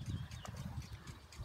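Farm horses playing in shrubbery, with a steady run of clip-clop hoof thuds and rustling close by, loud and continuous with no talk over it.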